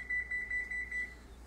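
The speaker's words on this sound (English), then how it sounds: "Nathan, can you set the timer for 25" A kitchen timer beeps in quick repeated pulses while it is set for baking corn bread, faint and thin against a quiet kitchen background.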